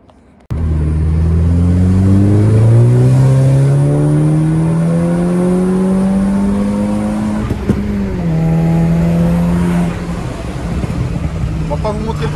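An Audi engine fitted with an aftermarket downpipe revs loudly and climbs steadily through the range, a strong harmonic drone rising in pitch, then dipping and rising again as it shifts, close and dominant.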